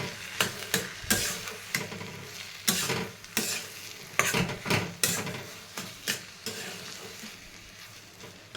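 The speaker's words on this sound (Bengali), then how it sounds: "একটু নাড়াচাড়া করে নামিয়ে দেবো, হয়ে যাবে বাঁধাকপি।" Cabbage fries in a pan and is stirred, with sharp, uneven spatula scrapes and clinks over a steady sizzle, close and fairly loud, no voices.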